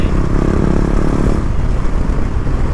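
KTM Duke 390 motorcycle riding along, its engine a steady, loud, continuous drone with road rumble and wind, no speech.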